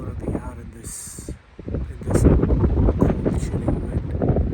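Gusty wind roars across the microphone outdoors in an NSW state forest, rising and falling in rough, cold blasts that stay loud throughout.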